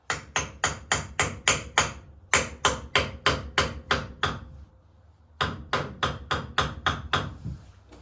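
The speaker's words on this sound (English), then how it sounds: "if you have a wooden hammer, you're going to want to use the wooden part to not mar it" Sharp wooden hammer taps on a Ford Ranger front wheel bearing assembly in quick, even bursts, several strikes per second, near and distinct, with a short pause between runs.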